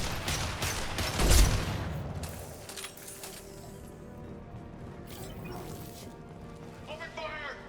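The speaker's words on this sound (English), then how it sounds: "Firing concussive shot." A concussive shot goes off in Mass Effect 2 with a single heavy, booming impact near the start, then fades into a lower clatter of combat noise. A voice speaks over it.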